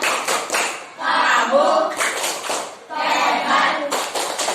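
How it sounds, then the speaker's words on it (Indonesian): A classroom of students doing the 'tepuk hebat' rhythmic clapping chant in unison, with bursts of patterned claps and chanted voices alternating in a couple of loud waves. "kalau masih tepuk hebat juga, tepuk hebat"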